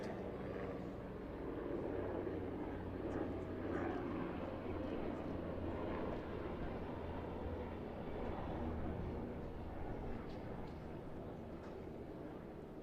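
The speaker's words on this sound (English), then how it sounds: "We've been under a number of helicopters this weekend." A low, steady helicopter rotor-and-engine drone hangs overhead at an outdoor tennis tournament, fairly distant and continuous, with faint ambient noise and no clear talking.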